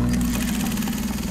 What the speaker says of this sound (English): The steady pulse of a sewing machine has long sparked a creative gene in Susan Hubbell.